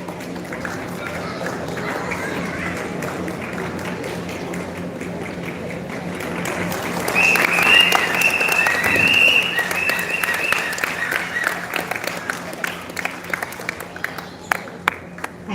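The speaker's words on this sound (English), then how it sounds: "Please, everyone, give her a great round of applause." Audience applause at a badminton tournament closing ceremony for an award winner, moderate clapping that swells midway with a cheer or whistle, then continues as sparser individual claps, with speech murmuring underneath.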